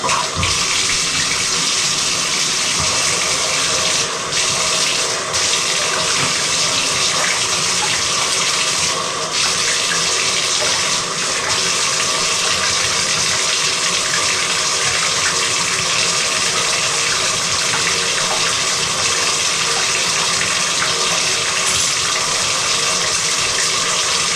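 Water rushes continuously into and down an unclogged bathtub drain, a loud, steady gushing and splashing that stays constant throughout with no voices.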